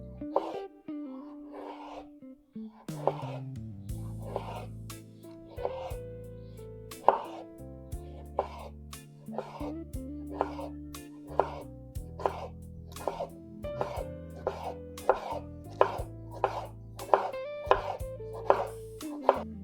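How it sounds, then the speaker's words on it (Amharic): A knife chops food thinly and evenly on a board: quick, regular close taps that start sparse and grow into a steady rhythm, with no voices. "ተጠንቅቀን ቀጠን አድርገን እኩል አድርገን መክተፍ ይኖርብናል።"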